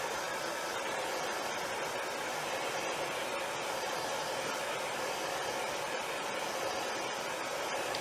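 A hair dryer blows steadily and loud at close range, drying a chalk transfer design on a wooden noodle board, a continuous even whoosh with no talk.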